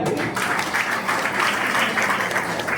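Steady, dense applause from an audience at a leaders' meeting in Hubli, loud and continuous throughout with no pauses.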